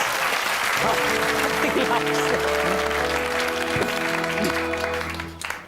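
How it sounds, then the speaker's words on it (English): Studio audience applause on the 1998 comedy show This Morning with Richard Not Judy: a loud, continuous roar of clapping mixed with a tonal musical tune and voices, tapering off near the end. "Give him a big round of applause."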